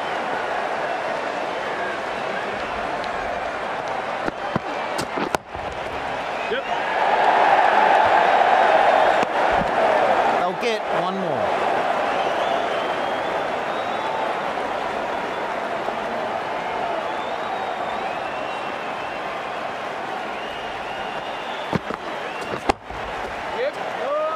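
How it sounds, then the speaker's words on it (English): A cricket stadium crowd at an England versus India World Cup match roars and applauds steadily through a long stretch. The cheering swells midway, a commentator talks over it, and sharp knocks break in now and then. "The crowd are loving this."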